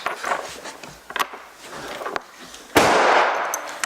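A single sharp rifle shot cracks out at a 300-metre target, followed by a rolling, rumbling tail that fades slowly over steady wind noise.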